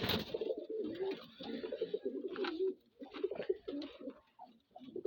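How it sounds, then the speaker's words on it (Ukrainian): Black-headed pigeons coo in a dovecote, with soft repeated rolling calls close by and continuous throughout, joined by faint rustling. "Оце чорноголовий голубочки цей."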